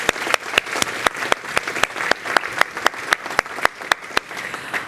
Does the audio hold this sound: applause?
yes